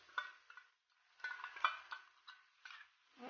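Yogurt masala with fried onion and garlic being stirred in a pan for bottle gourd sabzi, faint intermittent spoon scrapes and light sizzling in short bursts, close and quiet.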